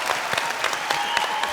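A studio audience on a Kannada comedy show breaks into applause to welcome the lead actor and actress of a film, brisk close clapping over a short stretch with a faint steady tone underneath.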